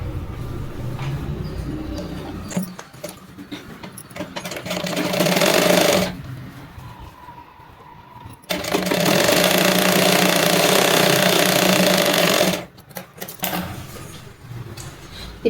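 A sewing machine stitches the side seam of a blouse, running in long steady whirring stretches broken by short pauses, loud and close with no talking.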